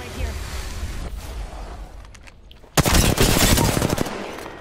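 Gunfire in the battle royale game Apex Legends, starting with quieter sporadic shots and then breaking into loud, close, rapid automatic bursts, with a player talking over part of it.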